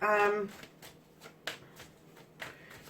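Soft riffling and tapping of tarot cards being shuffled, a few brief crisp flicks after a short voiced sound at the start, fairly close and quiet.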